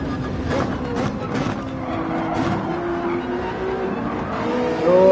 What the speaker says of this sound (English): Forgot how enjoyable the Ferrari 458 is to drive, how incredible it sounds.